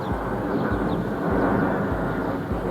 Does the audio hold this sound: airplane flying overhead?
yes